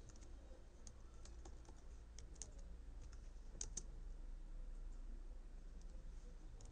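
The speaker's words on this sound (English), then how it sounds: "I'm going to type in the search box profile" Keys clatter faintly on a computer keyboard as someone types a short search entry, a quick run of soft clicks over a low steady hum.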